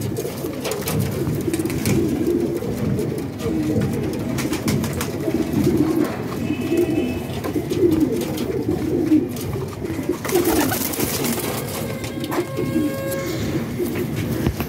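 Golden pigeons with plain eyes coo in a steady low murmur throughout a loft, several birds overlapping continuously at moderate loudness, with faint rumbling in the background.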